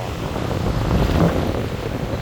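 Wind and waves at Bang Saen beach at low tide, a steady low rumble of wind buffeting with a soft surf wash, swelling slightly midway.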